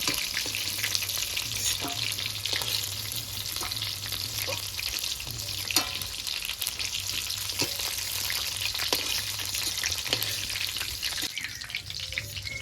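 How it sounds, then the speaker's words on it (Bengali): Steady, dense sizzle of fish pakoras deep frying in hot oil until reddish-brown, continuous crackle with occasional sharper pops, close by and without speech. "এখন পকোড়াটা লাল লাল করে ভাজা হয়ে গেছে, একটা একটা করে তুলে নেব।"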